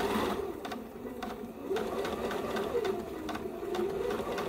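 A sewing machine runs steadily, stitching a quarter-inch seam through fabric for a tulip project, its close, continuous motor hum broken by faint rhythmic needle clicks.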